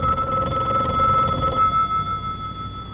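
An old telephone bell rings steadily and loudly for three seconds, a continuous bright metallic trill in a quiet room with no talking, from a 1964 television series.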